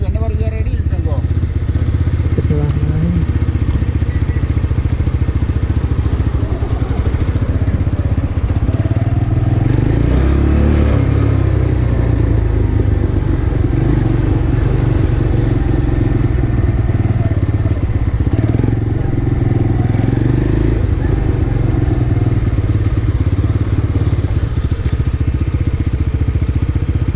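A motorcycle ridden during an Illinois motorcycle license test rumbles steadily throughout, its engine droning loud and close with small surges of throttle and a few thumps.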